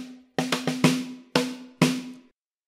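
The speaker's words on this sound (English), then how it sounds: "so I have put a snare drum on a MIDI track here." Snare drum from the Storm Drum virtual instrument, played on a MIDI track as six dry, close hits: three quick ones in a row, then three more spaced out, each with a short ringing tone.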